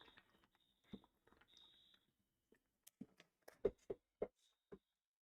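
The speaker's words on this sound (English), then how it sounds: "the fire alarm has just been going off constantly" A fire alarm sounds far in the background with faint high electronic beeps, mixed with sharp nearby clicks and taps in a quiet room.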